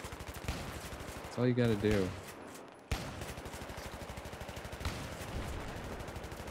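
Rapid automatic gunfire in the first-person shooter Battlefield, a steady fast rhythm of close shots that runs nearly the whole time and pauses briefly while a player speaks.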